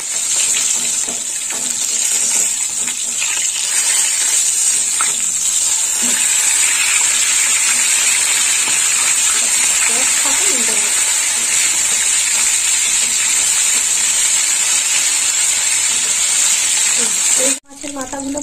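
Catla fish heads sizzle loudly in hot oil after being flipped, a continuous close crackle with a few scraping utensil sounds partway through and a brief drop near the end.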